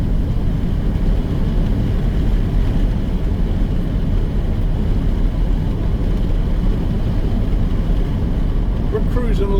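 A vehicle cruises along a US highway at about 50 mph, giving a loud, unbroken low road and engine rumble with steady wind noise throughout and no clear change in pace.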